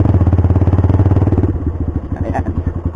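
A Rusi Mojo 200cc motorcycle rides along a muddy road, its single engine thumping loudly and rhythmically up close, the beat loosening and slowing slightly partway through.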